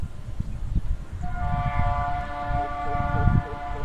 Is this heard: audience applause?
no